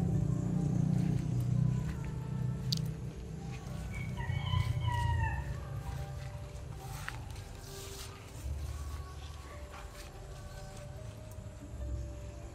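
Rooster crowing amid clucking chickens in a rural yard at feeding time, one clear crow in the middle over a steady murmur of fowl, with faint background noise.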